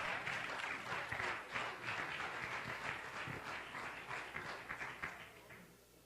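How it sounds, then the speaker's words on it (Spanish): Church congregation claps in praise to Christ, a dense, fairly distant wash of applause that holds steady and then tapers off near the end. "Dale un fuerte aplauso a Cristo porque Dios es bueno."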